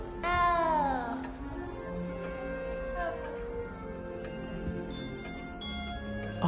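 A frightened little cat in the video game Hogwarts Legacy gives one loud, drawn-out meow that bends downward, followed by a fainter second cry, over soft ambient game music with a quiet ticking.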